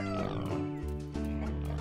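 Pig oinking in the farming video game No Place Like Home, a short harmonic grunt and squeal of under two seconds, close and clear with no talk.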